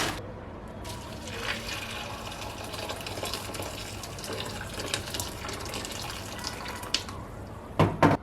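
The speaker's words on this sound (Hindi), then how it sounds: "ये गर्म पानी डाल दे ये ना" Hot water pours steadily into a bowl with a continuous splashing hiss, broken by a few clinks and knocks near the end, while making Tibetan aloo phing soup.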